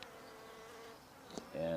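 Honeybees buzz around hives during a hive split, a close, steady droning hum with individual bees swelling louder as they pass near.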